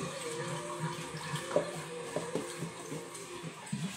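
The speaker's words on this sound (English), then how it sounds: "I'm going to do a second rinse on these fresh collards" Cool tap water runs steadily into a kitchen sink over fresh collard greens being rinsed a second time, with soft splashes and occasional knocks as the leaves are handled.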